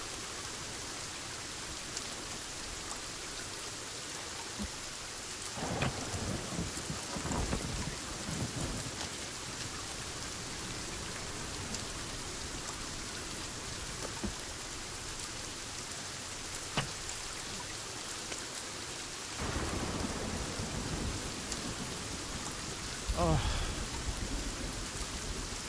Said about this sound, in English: Holy shit, the rain is so loud.